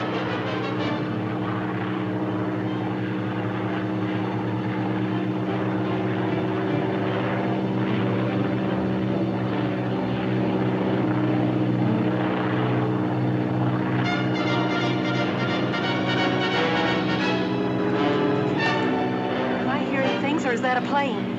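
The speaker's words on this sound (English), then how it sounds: "That's a plane" A propeller airplane drones overhead in a 1946 jungle adventure serial, a steady engine hum that grows somewhat louder toward the end, with no talk over it.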